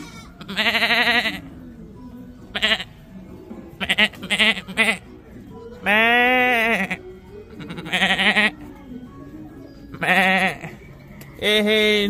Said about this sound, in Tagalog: Ay, mga kambing dito sa labas.